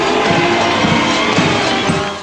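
Enthusiastic crowd cheering at the 1986 Mummers Parade string band performance, a loud, continuous roar of many voices and shouts close by with no break.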